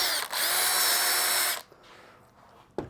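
A Milwaukee M18 cordless drill runs at steady full speed for about a second and a half, with a brief dip near the start, then stops, leaving a quiet tail and a short knock at the end.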